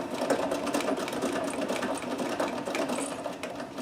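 A Necchi BU Nova sewing machine runs steadily, stitching a tight double-needle zigzag, with a close, even mechanical whir and rapid needle clatter throughout.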